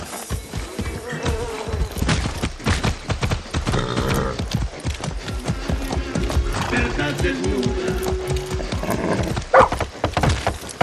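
Horse hooves clip-clopping at a gallop in the Far Cry 6 video game, a steady rapid rhythm running throughout, with buzzing insects, a brief whinny, and in-game voices talking over it.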